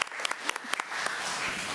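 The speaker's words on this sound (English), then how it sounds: "Let's give her a round of applause as she comes up." An audience at a committee meeting applauds a teacher coming up, a few distinct claps at first, then swelling into a steady wash of clapping from a roomful of people.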